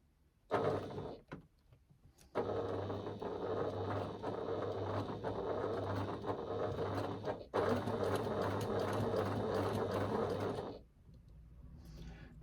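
A sewing machine fitted with a Teflon foot stitches faux leather for a key keeper, running in a short burst and then two long, steady runs of rapid mechanical clatter, close up and alone.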